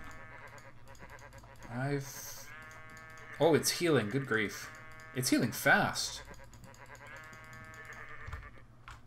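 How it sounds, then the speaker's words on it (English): A few sheep bleats from the video game New World come in a cluster mid-clip, mixed with tonal game audio and overlapped by people talking. "Die, sheep, die."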